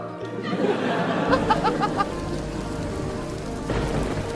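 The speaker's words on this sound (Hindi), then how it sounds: "अभी तो बिजली भी कड़क रही है" Steady rain patters on a surface with a low rumble of thunder beneath it, a few brief tonal sounds and a faint voice briefly rising over the wash of downpour.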